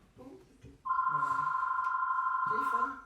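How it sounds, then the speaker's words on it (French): A telephone rings with one long, loud, steady electronic tone lasting about two seconds, with someone speaking French just before and after it. "Téléphone. Oui."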